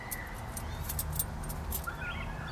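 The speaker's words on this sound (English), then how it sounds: "Ramp truck keys." A ring of ramp truck keys, including a square-headed GM-style key, jangles nearby in a garage, several bright metallic clinks and rattles over a low background rumble.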